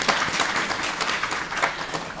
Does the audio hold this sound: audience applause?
yes